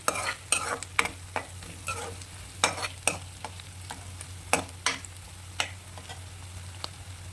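Cut dry red chillies fry in oil for a brinjal, tomato and drumstick curry, under a steady sizzle broken by frequent sharp scrapes and clinks of a stirring utensil against the pan.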